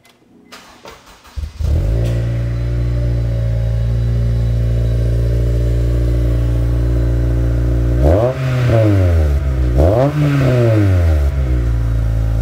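A 2002 Acura RSX Type-S engine fitted with a new exhaust cranks and fires up, settling into a deep, loud rumbling idle, then revs sharply twice near the end.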